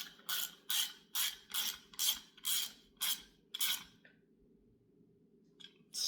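A hand ratchet snugs down a part on an HEI distributor being rebuilt, giving eight quick, crisp clicking bursts in a steady rhythm, close up, then stopping with only faint ticks afterward.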